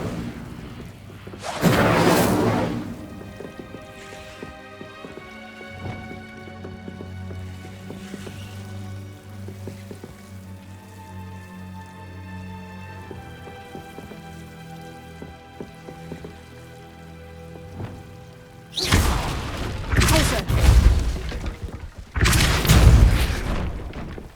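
Confringo and Incendio spell blasts in Hogwarts Legacy burst out in loud whooshing, booming bursts near the start and again in a rapid cluster toward the end, with quieter game ambience between and no talking.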